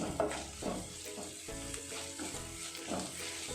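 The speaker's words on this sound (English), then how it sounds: "Let's add little ginger garlic paste into this. Now mix it well." Ginger garlic paste frying in a pan while being stirred for an egg curry with coconut milk, a steady close sizzle with soft scraping strokes of the spoon and no voices.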